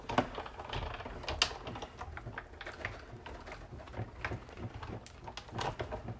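A Big Shot die-cutting machine feeds paper through its rollers for a Full of Happiness gift bag, giving a steady run of close mechanical clicks and ratcheting crunches with a few sharper snaps, no voices.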